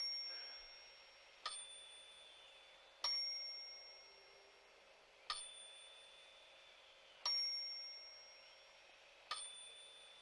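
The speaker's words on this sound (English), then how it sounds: "By the power of his thoughts, he can turn on lights and ring bells." Bright, clear bell dings ring out one at a time at spaced intervals during a telekinesis demonstration, each strike leaving a long fading ring in an otherwise quiet room.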